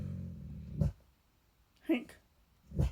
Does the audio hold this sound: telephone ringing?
no